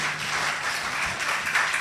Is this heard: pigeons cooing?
no